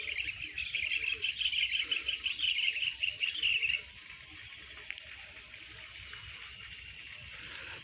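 A bird beside a river gives a fast, raspy chattering call for a few seconds before falling quiet, leaving faint insect and water hiss behind.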